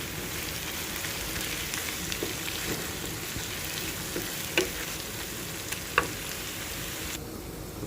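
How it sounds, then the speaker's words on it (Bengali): Onions and garlic fry in a pan toward browning, giving a dense, steady hiss and crackle with a few scraping stirs and two sharper clicks. "এখন আমি পেঁয়াজ রসুনগুলো একটু বাদামি কালার করে ভেজে নেব।"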